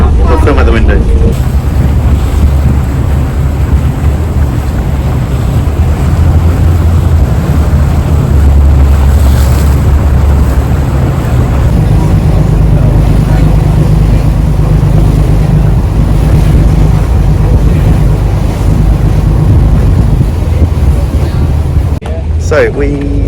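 A motorboat rides on the water in Venice, its engine a loud, steady drone with rushing wind and wave wash throughout, and brief talk heard over it.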